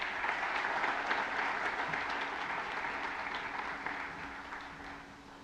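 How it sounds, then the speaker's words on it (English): Guests at a Boys & Girls Clubs of Tampa Bay charity breakfast give sponsors a round of applause, a continuous dense patter of many clapping hands in a large room that gradually fades toward the end. "Please, a round of applause for these amazing sponsors."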